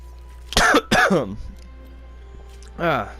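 A person coughs twice in a row, loud and close, with a rough throat-clearing quality, then gives one more short cough or grunt after a brief pause.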